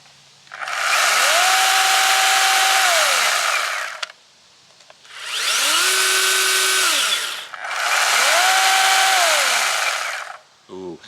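A Ryobi 8-inch battery pruning saw revs up close three times, each a loud, sustained motor whine that spins up and then winds down, with short quiet gaps between runs.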